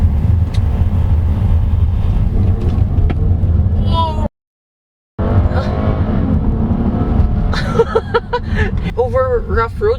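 A 2015 Hyundai Azera sedan with a 3.0L V6 drives over a rough, potholed road: a steady loud rumble of engine and road noise with occasional bumps while someone talks over it.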